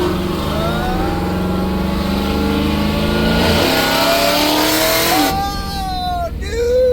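A big-block Chevy Nova engine revs loudly and close, its throaty roar climbing and dropping in repeated sweeps before a final rising pull. A voice can be heard faintly under the engine.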